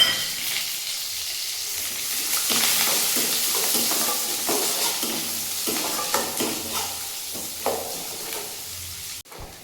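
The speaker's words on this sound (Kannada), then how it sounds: "1 medium size onion golden brown colour ಬರೋವರೆಗೂ ಫ್ರೈ ಮಾಡ್ಕೋಬೇಕು" Chopped onion with curry leaves and urad dal frying in hot oil until golden brown, a steady bright sizzle with repeated scraping stirs of a spatula, close and alone without talk.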